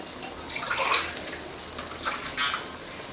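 Clean water is poured into a pot of Tamil pinju poosanikai (tender pumpkin) curry, giving soft splashing and trickling bursts in two short pours against a quiet kitchen background.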